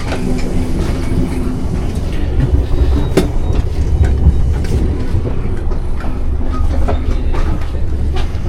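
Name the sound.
Swiss train running on rails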